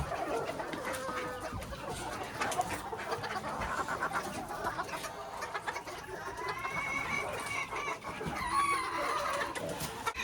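Old English Game Bantam chickens cluck and chatter close by while a young pumpkin rooster crows in short bursts, a busy backyard poultry pen sound with no talking.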